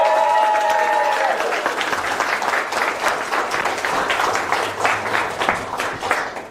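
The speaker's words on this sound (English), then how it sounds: "Give Howard a big round of applause." An indoor audience at a property talk bursts into sustained applause, dense clapping that slowly thins out, following a brief tonal sound at the start.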